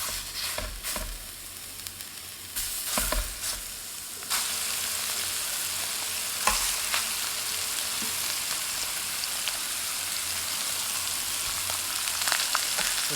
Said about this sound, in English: let's get searing these off. So we have a thin layer of oil in our skillet